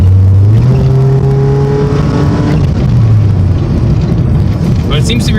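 Toyota Paseo engine running steadily after repair, a loud, close, continuous drone whose pitch rises and eases slightly as it is revved, with no talk over it.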